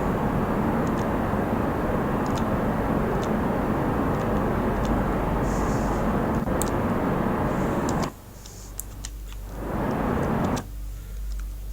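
Rocket engine thrust in the Kerbal Space Program game, a loud continuous roaring rumble that cuts out abruptly, briefly returns, then stops again, with faint ticks above.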